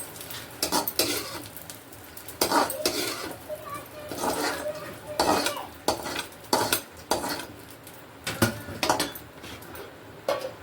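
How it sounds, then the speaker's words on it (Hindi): Gond being fried in desi ghee in a pan, soft sizzling under repeated clinks and scrapes of a metal spoon stirring against the pot, close and intermittent. "गोंद भी मेरे देसी तल रहे हैं देसी घी में"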